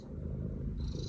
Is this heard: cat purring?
yes